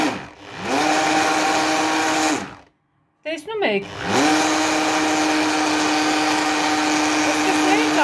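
An immersion blender whirs loudly and steadily while emulsifying homemade mayonnaise, cutting out for a brief moment of near silence before whining back up to full speed, with a voice speaking over the motor.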